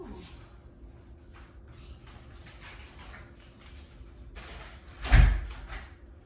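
After faint shuffling movement, a front door closes with a single sharp thud near the end.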